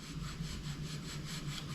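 A tool rubs steadily back and forth across screw-hole ridges on a wooden guitar neck, a close, quiet, continuous scratchy rasp with faint rhythmic strokes and no talking.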